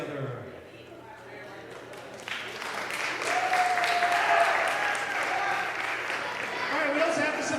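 Applause from a college audience at a comedy hypnosis show, a broad steady wash of clapping that swells after a couple of seconds and holds throughout, with a faint voice and a low hum underneath.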